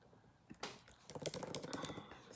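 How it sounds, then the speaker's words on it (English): Quick, irregular clicks of fingers typing on a computer keyboard at close range, starting after a brief lull and running as a dense patter with no talk. "I'm typing right now"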